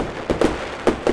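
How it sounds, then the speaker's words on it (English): A magic-spell fireworks sound effect during playful Harry Potter-style spell casting: four short, sharp crackling pops arrive in two pairs over about a second, loud against a steady background hiss. "Fireworks!"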